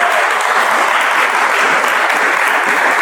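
Sustained, loud audience applause at a tribute concert, a dense, steady wash of many hands clapping throughout, without any voices over it.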